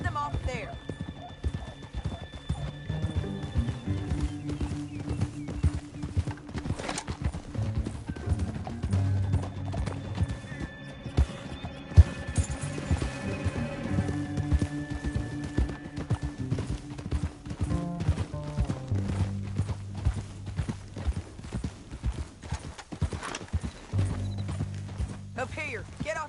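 Horses galloping in a Western-style video game on PS4, with rapid, continuous clip-clop hoofbeats close by, an occasional whinny, game music underneath and characters talking over it.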